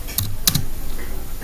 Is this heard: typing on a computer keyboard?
yes